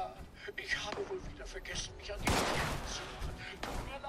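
Gunfire in Fallout 76, a few sharp shots and a louder burst at the midpoint under ongoing talking, fairly quiet overall.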